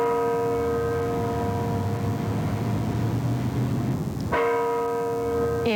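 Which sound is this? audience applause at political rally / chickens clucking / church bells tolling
church bells tolling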